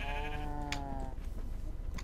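A sheep in the SurvivalCraft game lets out a single wavering bleat lasting about a second, fairly quiet over a dull background, followed by soft clicks.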